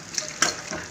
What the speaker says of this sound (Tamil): இப்போ நம்ம மசாலா சேர்த்து வதக்கிடுவோம்.